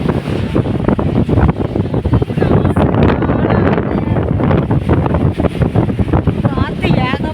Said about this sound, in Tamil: காற்று ஏகப்பட்ட காற்று வீசுது.